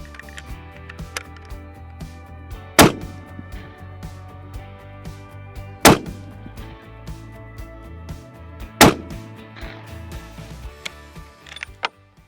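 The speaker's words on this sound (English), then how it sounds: "I'm shooting the Federal Premium Berger Hybrid 168 grain bullet in the 280 Ackley improved" A Weatherby Mark V Backcountry 2.0 Ti rifle chambered in 280 Ackley Improved fires three sharp, loud shots at roughly three-second intervals, with quiet gaps between them.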